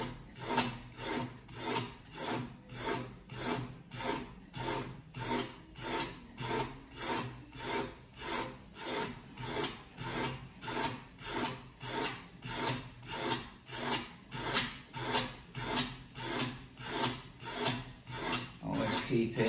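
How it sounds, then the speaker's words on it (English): A snooker table cushion is sanded back by hand with 40 grit paper on a block, making steady rhythmic rasping strokes, about two per second, close and even throughout. "sand this back to the line, just using 40 grit and a block"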